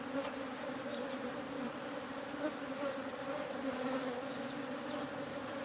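Thousands of honeybees drone around a hive at a bee sanctuary in a steady, dense, even hum that holds at moderate volume throughout, with no voices.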